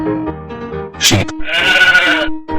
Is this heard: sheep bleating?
yes